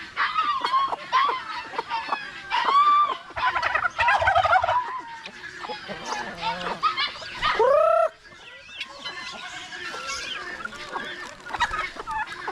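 Turkeys gobble loudly and repeatedly among chickens and other farm fowl, with clucking and crowing mixed in, a busy close barnyard chorus of overlapping calls throughout.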